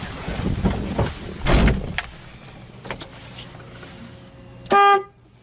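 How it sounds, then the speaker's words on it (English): Several clunks and knocks from a 2015 Polaris Ranger XP 900 EPS LE, then a single short, loud honk of its horn near the end, close by and with no talking. "Horn works."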